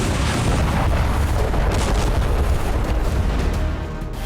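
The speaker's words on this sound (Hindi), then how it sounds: "हमले में यूक्रेन के एक हथियार डिपो को तबाह कर दिया गया। दावा है कि डिपो में पश्चिमी देशों से मिले हथियार मौजूद थे, जिसकी वजह से यहां जोरदार धमाका देखा गया" A huge explosion at a weapons depot stocked with munitions, heard as a continuous deep roaring rumble with crackling bursts that stays loud throughout and tapers only slightly at the end.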